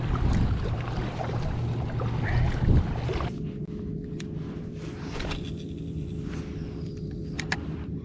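A kayak paddled on calm saltwater gives soft, close water sloshing and dipping with a low rumble. After about three seconds it turns quieter and thinner, with faint splashes and light knocks.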